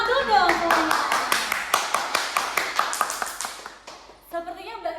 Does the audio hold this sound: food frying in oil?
no